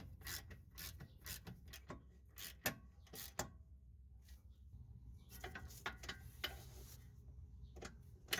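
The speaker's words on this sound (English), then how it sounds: "we can now bring them down with the ratchet" A ratchet runs down bolts on a Brembo brake caliper of a Cadillac CTS-V during a rear pad and rotor job, giving bursts of quick clicking strokes separated by pauses, close and fairly quiet.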